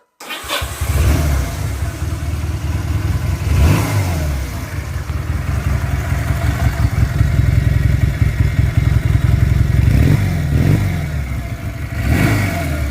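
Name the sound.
motorcycle engine starting and revving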